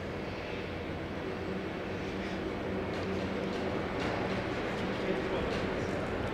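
A low, steady mechanical rumble of a helicopter arriving or leaving nearby drones in the background throughout a conference, fairly faint and continuous, with faint voices mixed in.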